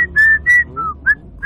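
A man whistles a short, bright tune of several quick notes, some held and some clipped, close and clear with nothing else going on.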